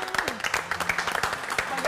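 A studio audience applauds after a semifinal on a televised talent show, brisk clapping with a voice speaking over it.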